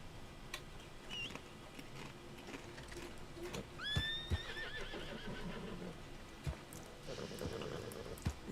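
A horse in Red Dead Redemption 2 gives a clear whinny partway through, amid soft hoof clip-clops and faint scattered game noise, all fairly quiet.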